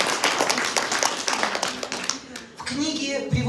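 Thin, sparse clapping from a small audience at a book presentation on the history of churches and clergy, scattered claps that fade out, with a voice speaking over them.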